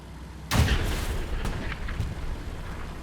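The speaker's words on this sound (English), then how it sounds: "Panzer 4 messes up the shot" A Panzer IV tank firing its cannon in a game, one loud close boom with a deep thump that decays into a long rumbling tail, with faint scattered pops afterward.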